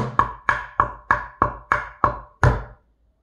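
Bucket drumming in a steady rhythm: seven evenly spaced sharp hits on a bucket, with a louder, fuller snare hit landing on the final beat, close and clear with no talking.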